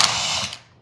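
A Ridgid pressure-activated impact drill with no trigger whirs in a short, loud, close burst that cuts off abruptly, with a faint click after it.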